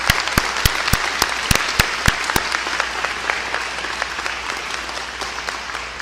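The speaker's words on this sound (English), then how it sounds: "So let's give her a big round of applause." A round of applause at a public event with the Illinois governor, dense clapping with several sharp, close individual claps standing out early on, then settling into a steady, slightly softer patter.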